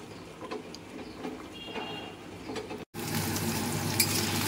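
Paneer pieces fry lightly in a pan, a moderate sizzle with light utensil scrapes that cuts off briefly and then returns louder and brighter.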